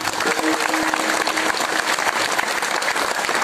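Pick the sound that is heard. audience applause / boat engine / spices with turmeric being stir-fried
audience applause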